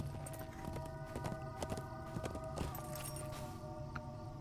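Horse hooves clop along a horse route in the LOTRO video game, a steady walking rhythm of soft, distinct hoof strikes with faint jingling tack, moderately close.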